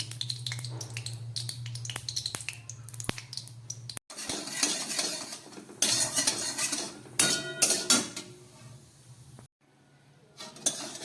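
Oil crackles and sizzles as mustard seeds and a dried red chilli fry, interrupted by clinking of a metal spoon against a pan, close and fairly quiet.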